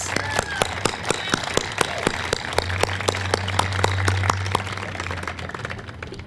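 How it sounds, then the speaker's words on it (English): Audience at an unveiling ceremony gives sustained applause, many hands clapping in a dense, continuous patter with a few sharper distinct claps near the listener. "Let's give them one more round of applause."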